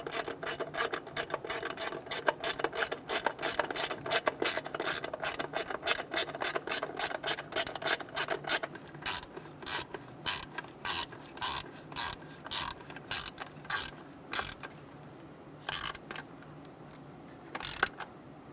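A ratchet snugs the distributor bolts on a 1988-1999 GMC K1500 with a 5.7L V8, first in a long fast run of close clicks, then in shorter separated bursts of clicking with brief pauses between them.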